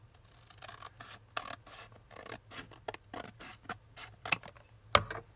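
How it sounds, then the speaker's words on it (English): Scissors snip across a sheet from a 12x12 paper pad in a quick series of short, close cuts with an uneven rhythm, ending in a sharper final snip, alone and fairly quiet. "You can use fancy scissors for this if you want to. You could rip it. I am going to just cut it."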